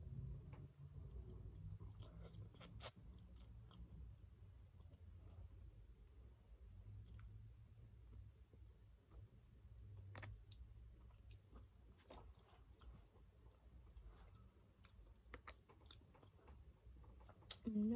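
Close, wet chewing of sticky honeycomb, with irregular soft clicks, squishes and smacks continuing on and off at low volume.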